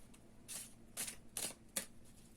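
Tarot cards shuffled and drawn from a deck for a reading, four crisp riffling bursts with short pauses between, close and fairly quiet over a faint room hum.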